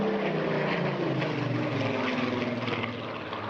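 Spitfire powered by a 2,000 horsepower Rolls-Royce Griffon 66 flying at an airshow, a steady rough propeller-engine drone at moderate distance, faint and fading slightly toward the end, with no speech.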